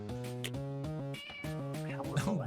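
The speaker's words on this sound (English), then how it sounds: "The meowing is part of the soundtrack, silly." Meowing is woven into the soundtrack of a magical murder-mystery video game, heard as stylized cat meows over a steady, tonal musical backdrop at modest volume.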